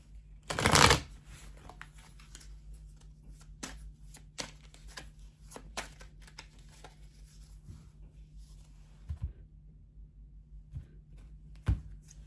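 Oracle cards for a tarot reading are shuffled close up, starting with one loud riffling burst and followed by scattered soft card taps and slides over a faint low hum, with no talking.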